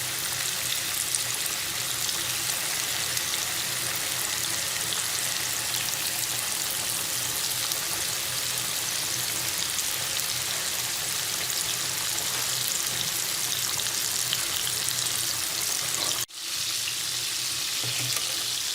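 Chicken pieces coated KFC-style fry in hot oil as a loud, steady, dense sizzle that fills the whole stretch, with a brief sharp dip in the crackle near the end before it carries on.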